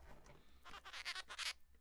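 Faint, rapid chirping bird calls in a quick burst of short high notes, distant and soft against a low background hum.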